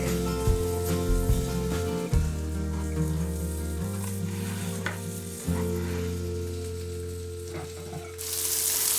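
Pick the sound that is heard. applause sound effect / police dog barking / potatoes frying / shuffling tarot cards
potatoes frying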